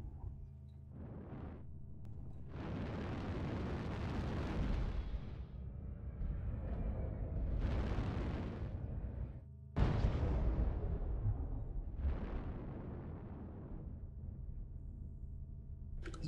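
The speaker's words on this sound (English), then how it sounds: "MechWarrior 3 sounds are awesome with these auto cannons." Autocannon fire from mechs in MechWarrior Online, using MechWarrior 3 style weapon sounds, comes as loud booming bursts in repeated volleys with brief gaps between them, heavy and close, with no talk over it.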